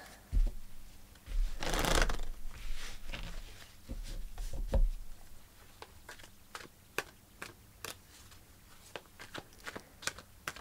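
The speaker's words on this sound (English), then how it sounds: "Let's pull a card for this Queen of Cups." Tarot cards shuffled in a long riffling burst, followed by a run of sharp separate card snaps and taps as a card is drawn from the deck, close and fairly clear with no talking.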